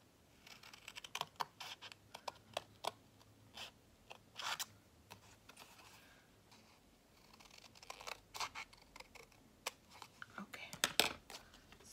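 Scissors snip through material in a string of sharp, quiet clicks with irregular spacing, close by, while a soft voice murmurs now and then.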